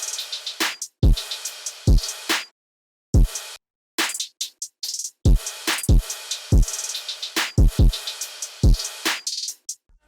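A trap beat plays with punchy drums, crisp hi-hats and deep sliding 808 bass hits, pausing briefly between phrases.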